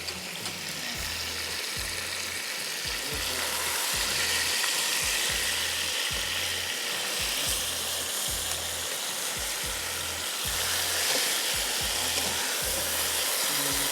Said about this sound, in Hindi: आपने डीप फ्राई किया है हल्की आंच पे